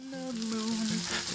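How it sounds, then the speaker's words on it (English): Sausage slices and carrot are stir-fried in a pan, giving a close, steady sizzle with light scraping and stirring throughout. "Then stir fry until sausage slices are browned"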